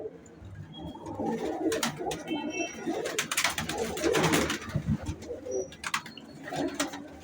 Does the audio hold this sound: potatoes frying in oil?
no